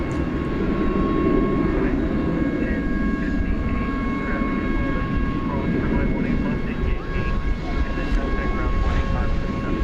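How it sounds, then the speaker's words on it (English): Turkish Airlines Boeing 787-9 Dreamliner, Flight 192 to Istanbul, takes off at night from DFW Airport, a loud, steady engine roar filling the whole stretch while people talk over it. "Oh, we can see Turkish flying out tonight."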